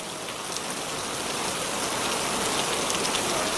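Steady rain falls in an animated village story, a dense, even hiss of drops on surfaces that holds unbroken and slightly swells toward the end, with no voices.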